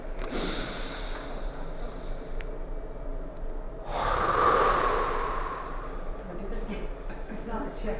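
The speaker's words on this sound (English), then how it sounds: "I want to demonstrate a diaphragmatic breath" A person demonstrates a slow diaphragmatic breath, a long audible inhale or exhale swelling through the middle of the clip, close and breathy, surrounded by softer breathing and room noise.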